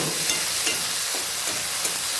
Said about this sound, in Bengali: সেই টমেটো কুচনোটা দিয়ে আরও মিনিট পাঁচেক ভালো করে কষিয়ে নেব